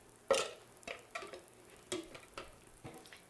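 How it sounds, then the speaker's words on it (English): A spoon stirs a bread pudding custard with brown sugar poured over challah bread, producing quiet, repeated scraping and dabbing strokes at an uneven rhythm with no talking. "Now we're just going to want to give this a little stir."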